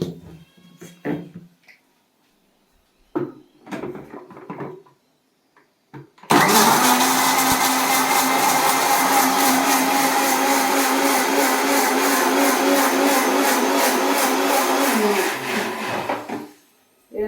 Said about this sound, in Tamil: தக்காளி நல்லா அலசி அரிஞ்சி வச்சுருக்கேன் பாருங்க இதை மிக்சியில் ஒட்டு ஒரு அடி அடிச்சிருங்க